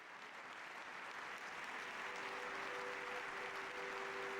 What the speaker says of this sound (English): A full athletics crowd applauds.